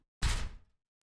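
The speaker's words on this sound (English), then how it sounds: "I got this metal impact sound." A single short metallic impact used as a transition sound effect: one loud broadband hit with a quick decay over about half a second, standing alone.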